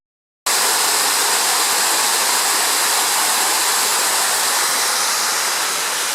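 A waterfall roars in, starting abruptly after a brief silence, then pours on as a loud, steady, broadband rush of falling water with no voices over it.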